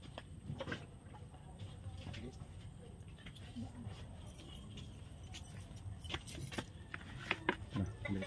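A set of keys jangles in short clinks at a rural chicken-raising spot, with a voice talking and faint birds and outdoor background noise throughout.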